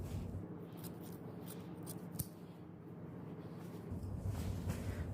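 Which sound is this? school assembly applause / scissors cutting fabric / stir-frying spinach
scissors cutting fabric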